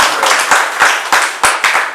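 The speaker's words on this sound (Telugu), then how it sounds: "అసలు గట్టిగా చప్పట్లు కొట్టడం" Audience clapping together at a Shirdi Sai Baba devotional discourse gathering, a dense, loud wash of applause with sharp rhythmic claps cutting through roughly every third of a second, steady throughout with no talking.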